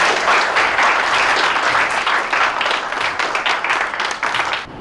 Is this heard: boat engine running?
no